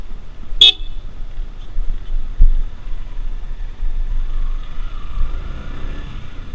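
A Yamaha R15 V2 Special Edition motorcycle out on a ride, giving a steady low engine drone mixed with wind rush, plus one short bright beep near the start.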